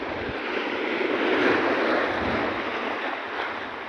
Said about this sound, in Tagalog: Tingnan nyo po, ang lakas ng alon.